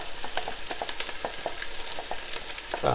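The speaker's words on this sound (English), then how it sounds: "basically saute them until they're soft and translucent" Vegetables for a bolognese meat sauce sauté in hot oil, making a close crackling sizzle broken by quick, repeated spoon clicks and scrapes as they are stirred.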